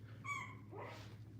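A puppy barks and yelps excitedly from somewhat far off, a few short high cries followed by a softer whine over a low background hum.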